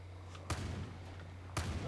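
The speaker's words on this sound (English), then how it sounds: "Who the fuck are you shooting at?" Two sharp gunshots about a second apart in the Far Cry New Dawn video game, fairly faint, over a low steady hum.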